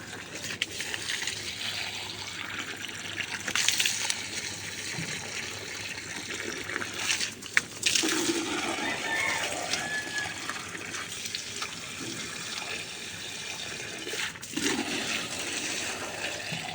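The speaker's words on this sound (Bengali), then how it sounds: "এই যে এইভাবে বোতলগুলি ভরে দেয়" Water pours and gushes steadily into plastic bottles set out for potted plants in a rooftop garden, a continuous splashing fill with brief louder surges and no talking.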